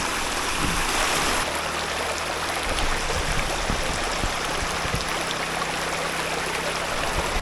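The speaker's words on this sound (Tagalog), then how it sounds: "Okay yung tubig dito sa ilog sa may kalikasan campsite" A river stream at a campsite in Tanay, Rizal rushes steadily, a loud continuous wash of flowing water up close with no talking.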